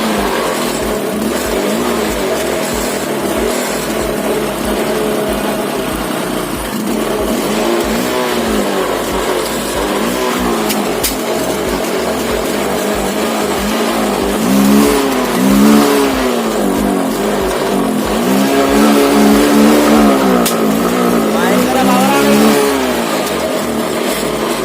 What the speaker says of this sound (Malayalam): വണ്ടി സ്റ്റാർട്ടായിട്ടുണ്ട്. ആക്സിലേറ്റർ കൊടുക്കുവാണേ.